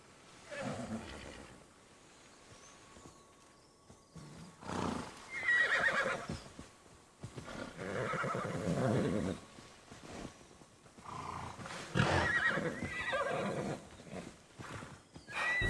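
A horse in the video game Immortals Fenyx Rising neighs and whinnies several times across the stretch, loud and close, with some hoof clip-clops and ambient game sound between calls.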